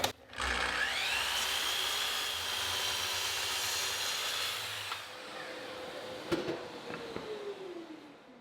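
A power saw cuts wooden boards, one 1x4 and two 1x6s, to length against a stop block. It makes a sustained, fairly loud whirring cut that spins down and fades toward the end, with a few knocks of wood.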